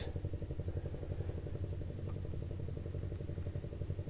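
A boat engine on a river in the Sundarbans chugs in a low, steady, rhythmic throb that sounds faint and distant in the quiet, with no voices.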